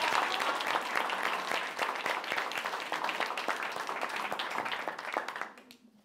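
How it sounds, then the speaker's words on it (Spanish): An audience at a card magic show applauds the magician's assistant with a full round of clapping, sharp individual claps punctuating the crowd, before it quickly dies away near the end. "Un aplauso muy fuerte para ella,"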